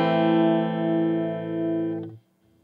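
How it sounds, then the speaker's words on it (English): An electric guitar plays a single sustained chord through Logic Pro's Clean Guitar Brit and Clean channel strip preset, ringing clean and close for about two seconds before being muted. "And that would be the Clean Guitar Brit and Clean preset."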